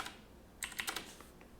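Quiet keystrokes on a computer keyboard, a brief pause followed by a quick burst of several soft, close clicks.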